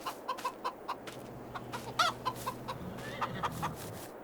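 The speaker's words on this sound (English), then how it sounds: "over here is chickens" Chickens clucking in the Farming Simulator 22 farm game, a string of short, repeated clucks and squawks at a steady, moderate level over a low background hum.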